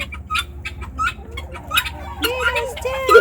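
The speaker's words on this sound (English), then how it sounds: "Oh, look at the chickens too." Chickens cluck and chatter in short, bird-like bursts, close by and moderately loud, while people talk over them.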